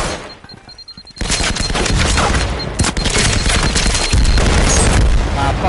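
Heavy explosions from frag grenades thrown into a room in the Firewall video game, a loud sustained barrage of booms and gunfire-like blasts that runs almost the whole clip after a quieter opening, with faint voices underneath.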